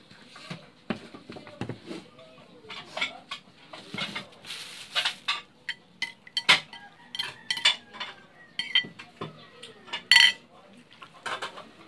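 Utensils clink and scrape against a bowl while kinilaw, a Filipino raw fish dish, is mixed, giving a busy run of sharp metallic taps and stirring noises up close, with a voice heard now and then.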